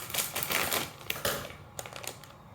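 A large Trader Joe's pretzel snack bag is cut open in one pass, giving a quiet, close run of crisp crinkling and snipping that fades near the end.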